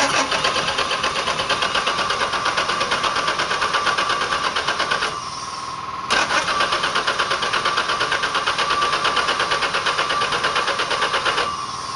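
A Chevy 4.3 V6 fitted in a Series Land Rover cranks over on the starter with a rapid, even churning rhythm, loaded with oil in the cylinders. It pauses briefly midway, then cranks again without catching, close and loud.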